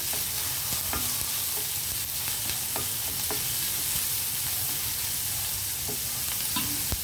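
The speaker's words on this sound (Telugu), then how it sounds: "ఇవి కొంచెం వేగనిద్దామండి ఉల్లిపాయలు" Sliced onions fry in a pan with a loud, continuous sizzle, while a spoon stirs and scrapes at irregular intervals and metal taps cut through now and then.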